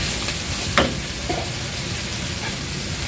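Vegetables for escabeche and curtido sizzle and fry in a pan with a steady close crackle, plus a couple of brief stirring scrapes, no talking.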